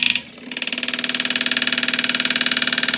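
A diesel engine on the low-pressure fuel side, probably a pump, runs steadily and quietly with a fast regular pulsing beat. It starts up after a brief pause and continues close and constant to the end.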